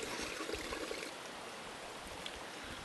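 A cool, clear mountain stream flows in a continuous wash, quiet and steady, with a slightly busier patch of ripple near the start and no talk.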